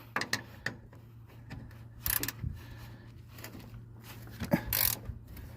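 A GearWrench 9/16 ratcheting wrench tightens a bolt on a 1976 Ford F250, producing scattered clicks and metallic knocks in irregular bursts, close and moderately loud, with a faint steady hum underneath.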